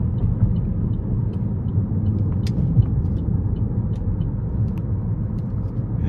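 Steady low road and engine rumble inside a 2012 Buick LaCrosse V6 as it accelerates along an interstate, a continuous droning wash with faint ticks and no talking.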